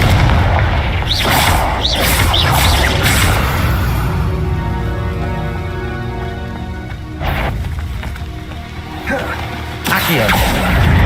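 A Confringo fire spell goes off in the Hogwarts Legacy video game, with loud booming blasts over a steady rain-like hiss, the biggest bursts coming late and sharply.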